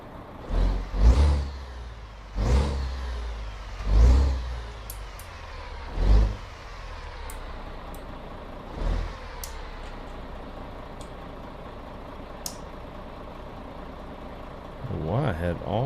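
Truck in American Truck Simulator driving along, with engine rumble and a series of heavy low thumps at steady intervals, roughly every two seconds, under a continuous road drone and some faint chatter.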